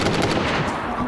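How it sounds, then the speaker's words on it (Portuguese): Rapid, loud gunfire bursts close by in the survival game DayZ, a dense run of sharp shots packed into about a second. "Teve um tiro pertinho, você que atirou a pistola?"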